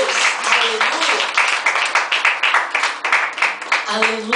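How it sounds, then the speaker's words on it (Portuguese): A church congregation clapping in praise of the Lord, a dense rhythmic patter of many hands with a voice speaking over it throughout. "Você pode aplaudir o Senhor?"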